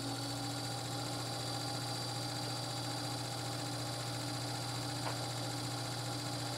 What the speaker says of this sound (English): So we'll start off by applying 30 Hertz to the machine and look at the speed that we get.